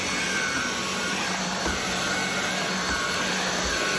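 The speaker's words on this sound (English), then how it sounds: "it is kind of still difficult to vacuum the stairs with this" An Inse cordless vacuum cleaner runs steadily on a staircase, giving a loud, constant high-pitched whine and rush of airflow with only slight dips.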